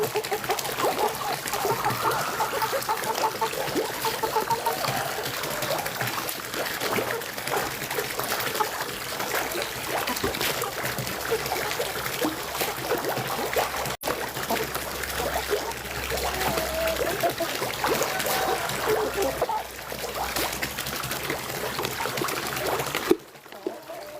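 Water from a homemade shower-style spray system pours steadily into a fish pond where fry are raised, a continuous close trickling and splashing that runs unbroken for the whole stretch before cutting off at the end.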